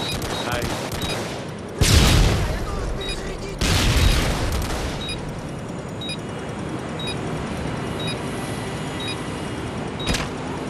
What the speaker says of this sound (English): They're shooting through a fucking wall right now.